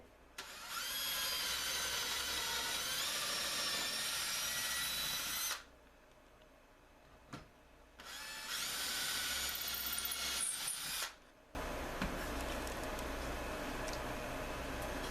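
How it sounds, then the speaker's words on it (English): A power drill drilling through wood and a shim whines at high speed in two long bursts, with a pause between and a third burst near the end, close and loud. "I want to drill through the shim too."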